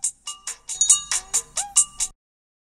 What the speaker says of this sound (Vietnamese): Em nghe điện thoại chút nha.